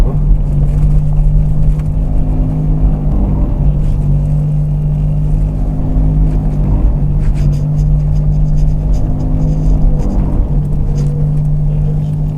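Skoda Rapid driven off-road over a rough, bumpy track, with a loud continuous engine rumble and drone inside the cabin and irregular rattling and knocking noises over it.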